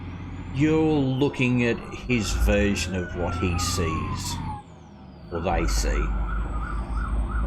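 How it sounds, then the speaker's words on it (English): Emergency vehicle sirens wail in a city, a long gliding tone rising and falling behind close, steady speech from someone talking throughout. "you can probably hear the sirens and whatnot going on in the background"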